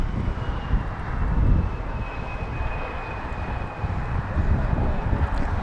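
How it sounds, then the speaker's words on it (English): A SkyWest jet airliner arriving at Los Angeles International Airport gives a steady, moderately loud engine roar and rumble mixed with wind noise, holding throughout with no talk. "SkyWest 6275 flying in from Oklahoma City, 3 hours and 5 minutes of flight time for that one."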